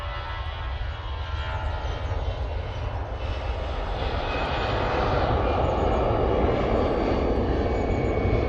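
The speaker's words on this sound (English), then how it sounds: "There goes that EasyJet off to Turin." A jet airliner takes off from Manchester Airport, a continuous broadband engine roar that builds steadily in loudness across the clip, heard alone with no talk.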